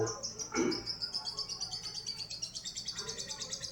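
A white-rumped shama (murai batu) songbird in Kaliwungu village sings a quiet, rapid series of rhythmic chirps and trills, fairly faint and heard mostly alone.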